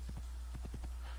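A horse's hooves clip-clop in a quick, uneven rhythm in the video game Assassin's Creed, about eight soft distinct steps over a steady low background hum, with no talk.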